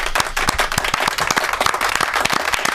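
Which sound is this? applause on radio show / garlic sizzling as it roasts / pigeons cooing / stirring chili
applause on radio show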